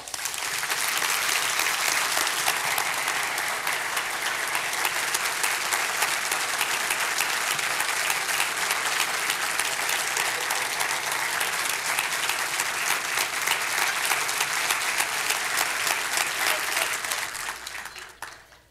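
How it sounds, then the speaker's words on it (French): Audience applause fills a church for about seventeen seconds, a dense, even roar of many hands clapping without pause before cutting off abruptly at the end, with little talking over it. "je vais vous demander d'applaudir jusqu'à temps que je vous dise d'arrêter"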